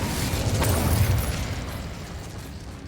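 A fiery Incendio spell cast in the Hogwarts Legacy video game, heard as a loud, sustained rushing burst of flame that swells early and then fades into a steady roar over about three seconds.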